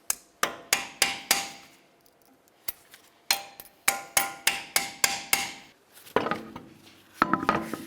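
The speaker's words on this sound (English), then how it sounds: "Peen over the cotter pin, so there's no way this nut can loosen up on its own." A hammer peens over a cotter pin on the axle nut while a driver side CV axle is replaced on a 1999-2003 Toyota Solara, giving a series of sharp, ringing metallic taps in quick clusters, close and loud.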